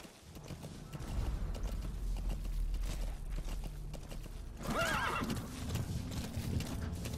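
Hooves clip-clop steadily, then a horse whinnies loudly partway through, with ambient background from Metal Gear Solid V: The Phantom Pain underneath.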